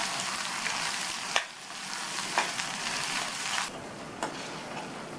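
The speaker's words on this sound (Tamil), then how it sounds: "இந்த தொக்கை எண்ணெயிலேயே நல்லா வதக்கி" Coriander thokku sautés in plenty of oil in a pan over low-medium flame, a steady close sizzle and crackle with occasional sharp spatters and stirring clinks.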